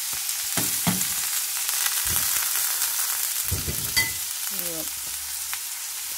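Blanched bitter melon stir-fries in hot oil in a pan after eggs and green onion, a continuous loud sizzle broken by several close spatula scrapes and knocks.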